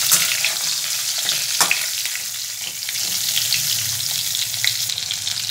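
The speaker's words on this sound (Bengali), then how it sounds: "পটলগুলো হালকা করে একটু ভেজে নেব।" Pointed gourd pieces fry lightly in oil, with a steady crackling sizzle broken by scattered clinks and scrapes of stirring in the pan.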